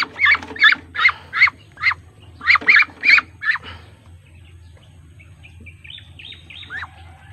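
A young Muscovy duckling peeps in a quick series of high, clear chirps, close and loud, then falls to quieter, softer calls with faint background noise.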